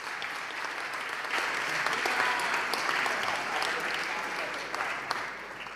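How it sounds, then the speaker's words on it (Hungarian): A large audience at a winter camp's Saturday evening gathering applauds in a steady, loud, dense wash of clapping that swells slightly and holds for several seconds. "úgyhogy egy nagy tapsot kérünk neki is"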